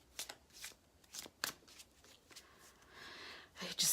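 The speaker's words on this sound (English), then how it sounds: "I have to shuffle really well here." Tarot cards being shuffled in several quick riffling bursts, crisp and close, with short pauses between and a longer rustling shuffle near the end.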